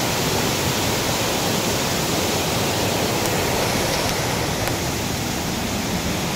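Dahoyhoy Falls in Mauban, Quezon pours in a dense, steady roar of falling water, loud and unbroken with no voices.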